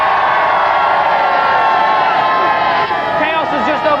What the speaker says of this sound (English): Give a round of applause to Alan!